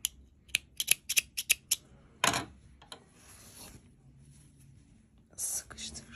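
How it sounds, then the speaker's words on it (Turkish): Scissors snip yarn on a crocheted frog bag, a quick run of sharp close clicks followed by a louder cut, with soft whispery handling and faint rustle around it. "Artık kesiyorum."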